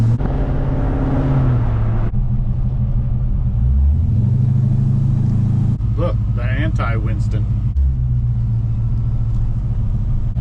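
Exhaust drone from a Chevrolet squarebody truck being driven, a steady low rumble that rises and falls with engine speed, with people talking over it.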